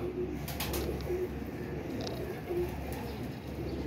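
Close pigeon coos repeat in a gentle, rolling rhythm, mixed with a few sharp clicks and a constant low background hum.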